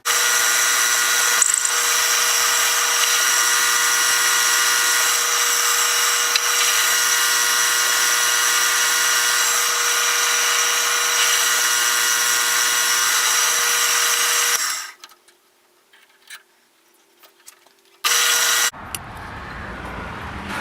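A power drill bores into an aluminum ladder during a home repair, a loud sustained whine for about fifteen seconds, then stopping, with a brief final burst near the end.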